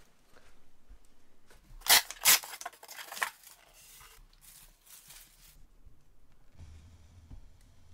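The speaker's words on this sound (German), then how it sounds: "Nun geht es ans endgültige Auspacken der Lok." A Märklin gauge 1 Reko steam locomotive 02 0314-1 in 1:32 scale is unpacked, with rustling and crinkling packaging, a couple of loud sharp crackles near the middle, then quieter handling noises close by.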